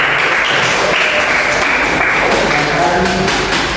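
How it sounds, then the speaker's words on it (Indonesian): Classroom students clap together at the teacher's request, a loud dense burst of applause over noisy room sound, with voices mixed in. "Oke, kasih tepuk tangan ya."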